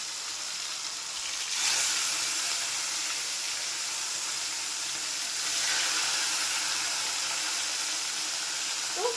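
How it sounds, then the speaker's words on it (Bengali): Steady, hissing sizzle of rohu fish frying in hot oil, with a couple of louder crackling surges along the way. "আমি একসাথেই সব মাছগুলো দিয়ে ভালো করে ভেজে নেবো"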